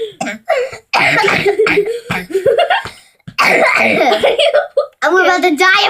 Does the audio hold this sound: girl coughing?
yes